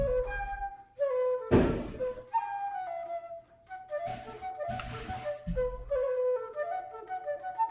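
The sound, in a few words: fireworks going off in the distance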